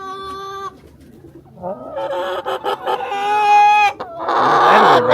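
A pet bird sings and chatters close by, with clear tonal whistles, warbling phrases and a denser burst of song near the end, heard alone without talk.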